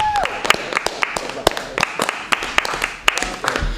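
Audience applause at a stand-up comedy show, scattered sharp claps from a modest crowd in a small room, uneven and fairly close, with a voice talking over it.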